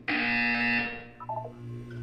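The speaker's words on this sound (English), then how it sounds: "You will hear a buzzer." A loud electronic buzzer in the game Portal 2 blares for about a second, then trails off into a few softer chime-like notes.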